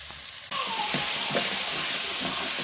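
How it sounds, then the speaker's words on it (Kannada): Capsicum goes into a hot pan and begins frying, a sudden loud sizzle breaking out and holding steady with hiss and faint stirring for the rest of the stretch. "ಈಗ ಕ್ಯಾಪ್ಸಿಕಮ್ ಹಾಕೊತಾ ಇದ್ದೀನಿ."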